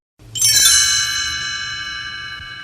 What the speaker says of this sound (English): You will know when it's time to turn the page when you hear the chimes ring, like this.